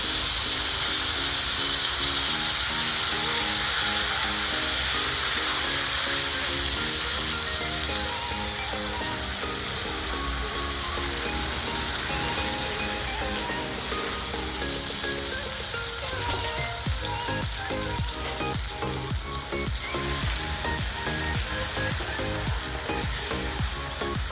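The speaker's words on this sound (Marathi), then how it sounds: "आपण जी पेस्ट करून घेतली होती त्यामध्ये आपण हे परतून घेणार आहोत तेलामध्ये" Spice paste sautés in oil in a kadhai for kadhai paneer, a loud continuous sizzle and hiss close by, with background music playing throughout.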